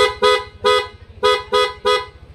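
A stock Yamaha NMAX motorcycle horn honks in five short, loud blasts with brief pauses between, a bright, close, buzzy tone repeated in a steady rhythm.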